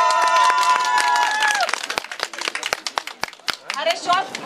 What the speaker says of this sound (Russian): Хлопаем за платок Светланы.